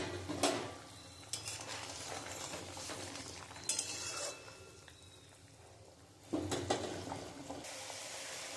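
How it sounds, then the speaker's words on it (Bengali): Curry gravy for banana-flower koftas bubbles in a pan as the fried koftas go in, with stirring, sizzling and occasional clinks of a spoon against the metal, fairly close and without voices. "আমার ঝোলটা একদম ফুটে গেছে।"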